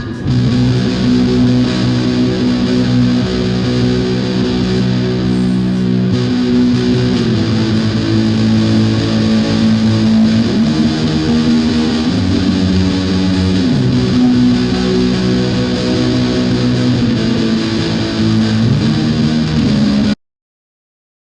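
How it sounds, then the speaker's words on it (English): A SurfyBear Reverb effects unit colours a sustained, distorted electric guitar drone with wash, the loud tones shifting through a few chord changes without pause and then cutting off abruptly. "So here is our SurfyBear Reverb."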